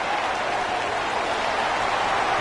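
A stadium crowd roars and applauds after a football punt return, a dense, steady wash of cheering that holds at full volume throughout.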